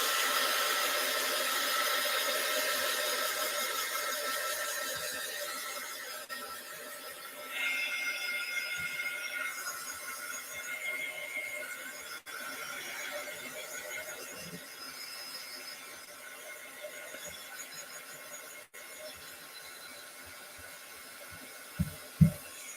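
A hair dryer blows a steady, close, continuous airy whir for a long stretch while drying a mixed media painting, with a few faint knocks at the end.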